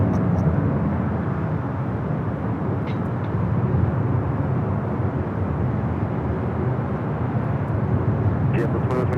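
An airliner arriving at LAX produces a steady, broad engine rumble and rushing roar that holds throughout without clear peaks.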